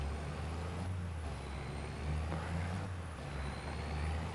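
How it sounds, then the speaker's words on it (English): A truck engine in Farming Simulator 25 drones steadily in a low rumble with a faint high whine above it, fairly quiet and continuous, with no talking. "don't know what to make of this truck. Yeah, it's just the noise putting me off. It sounds like a lorry."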